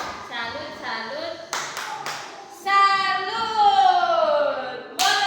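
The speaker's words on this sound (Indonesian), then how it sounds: "Tepuk salut." A class of children performs a rhythmic clapping routine, sharp sets of hand claps punctuating their chanted voices in a close, lively room.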